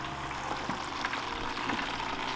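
A $10 fish tank pump reverse flushing a car heater core, giving a continuous gurgling, bubbling water flow with crackling splutters, fairly close and steady, with no talking.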